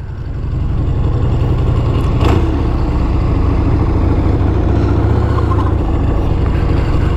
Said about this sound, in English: we're gonna take this beautiful Perewitz Panhead for a ride